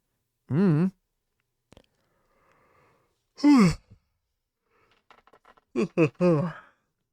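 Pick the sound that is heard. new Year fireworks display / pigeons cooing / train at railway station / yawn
yawn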